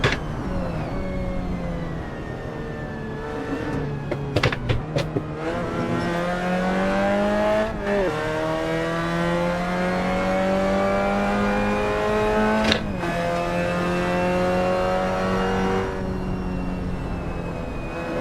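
A Mazda MX-5 Cup race car engine in the Assetto Corsa racing game at Portland, revving loudly and steadily through rising gear pulls, with sharp shifts and brief drops in pitch around corners, heard close and onboard without talk.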